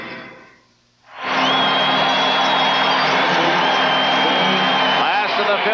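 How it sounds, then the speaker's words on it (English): A baseball crowd at Anaheim stadium during the 1979 ALCS swells into a loud, sustained roar of cheering after a brief quieter moment. "listen to this crowd as they try again to spur the Angels"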